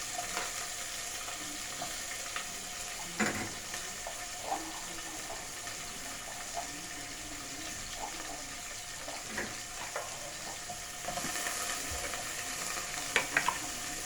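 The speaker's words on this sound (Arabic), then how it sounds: "نبدا نحط البصل. انا حاطه البصل كده شرايح" Sliced onions sizzle in a pan with a steady, faint frying hiss, broken by occasional clinks and stirring scrapes, with no talking.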